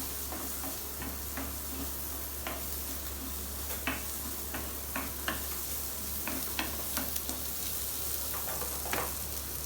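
Onions fry in oil in a clay pot, giving a steady close sizzle with scattered crackles and occasional stirring clicks.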